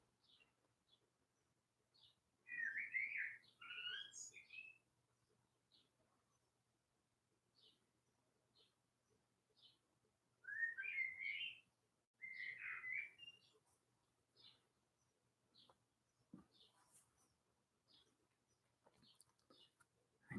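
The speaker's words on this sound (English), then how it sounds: "I have a very chatty bird just outside the window." A bird chirps and warbles in bursts of quick, bright trills, with sparse single tweets between them, faint and a little distant in a quiet room.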